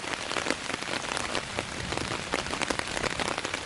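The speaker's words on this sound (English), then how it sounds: "It's still raining hard" Heavy rain drums hard on a tent during wild camping, a dense close patter that holds steady throughout without any talking.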